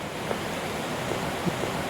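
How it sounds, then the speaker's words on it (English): At the base of the tiered Chae Son Waterfall, water roars in a dense, steady, close rush with no pauses and no voices. "I've just reached the base of the waterfall."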